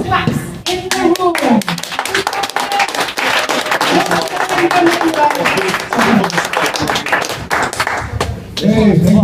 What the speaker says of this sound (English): can we please the loudest claps in the room?